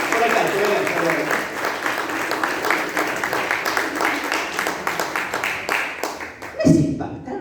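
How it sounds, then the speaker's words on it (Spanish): A church congregation claps together, a steady ripple of applause with a few laughs mixed in, ending abruptly as a voice speaks briefly at the close. "Un aplauso para él."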